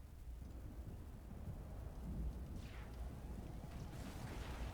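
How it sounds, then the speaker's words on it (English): A storm cell's distant thunder plays as an ambient effect: a faint, low, continuous rumble with soft swells, heard on its own with no talking. "I can't get over how realistic the thunder, the distant thunder of this storm cell sounds"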